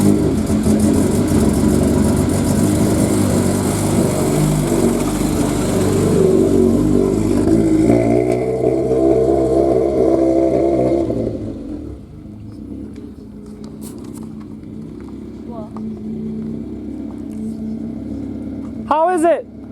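A car on a test drive runs with a loud, steady engine drone for about eleven seconds, then drops to a quieter, fainter hum.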